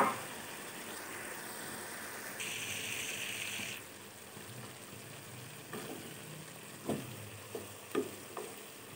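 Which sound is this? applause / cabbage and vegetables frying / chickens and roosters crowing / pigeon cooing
cabbage and vegetables frying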